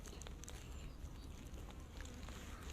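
A steady, dense insect buzz fills the air, like many bees swarming close by, with faint ticking and tapping sounds scattered through it.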